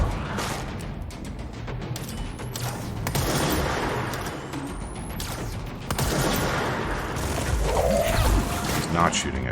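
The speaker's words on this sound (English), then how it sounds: "Are you shooting at me?" Rapid gunfire and bursts of shots from the shooter video game Control crackle through a dense, loud mix of combat noise and impacts, with a person talking over it.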